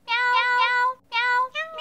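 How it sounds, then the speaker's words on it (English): Cartoon cats in the Battle Cats mobile game meow a festive jingle: a run of clear, tonal, pitched meows in quick succession, loud and close, with no talking. "Meow, meow, meow, meow, meow, meow, meow."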